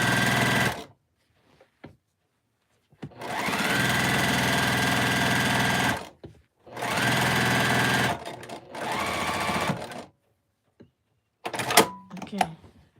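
A domestic sewing machine runs in several steady bursts of a few seconds each, a loud even mechanical whir that stops and starts with silent gaps between runs, plus a few clicks near the end.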